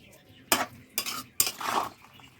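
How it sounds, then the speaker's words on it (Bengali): Drumstick flowers and vegetables are tossed together in a bowl for a Bengali chorchori, with three sharp scraping clinks of a spoon against the bowl and soft rustling between them. The sounds are close and moderately loud, and no one speaks. "এবার ভালো করে মাখিয়ে নেব"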